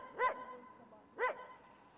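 Dogs near a garbage dump in a residential neighborhood give two sharp barks about a second apart, moderately close and standing clearly over quiet background noise.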